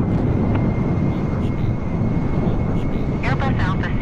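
Airbus A320 engines drone with a steady, loud roar on approach in a flight simulator game, and a brief radio voice cuts in near the end.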